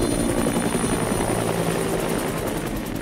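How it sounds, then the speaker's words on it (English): A helicopter's rotor thrums loudly and steadily, close and continuous throughout, in the video game Dead Rising Deluxe Remaster. "I know that helicopter."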